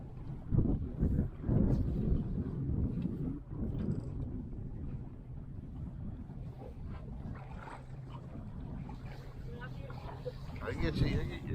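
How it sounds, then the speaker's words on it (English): Wind gusting over a boat on Mosquito Lagoon, a fluctuating buffeting rush that rises and falls across the clip, with people talking intermittently over it. "Wind's blowing pretty good now."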